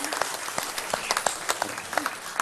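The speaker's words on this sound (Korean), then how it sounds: "찬양대 박수 한 번 더 해줍니다." A small church congregation applauds its choir with brisk, scattered clapping for a couple of seconds, fairly close and lively.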